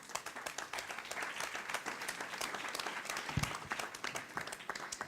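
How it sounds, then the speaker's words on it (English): Steady applause from a conference audience welcoming a speaker on stage, dense clapping that fills the room evenly for several seconds with little talk. "On peut l'applaudir."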